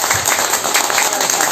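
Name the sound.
audience applauding a singer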